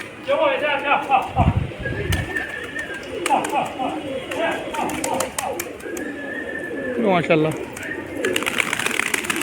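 Pigeons at a loft coo in soft repeated throaty phrases, with wingbeats and chatter close by, while someone speaks over them.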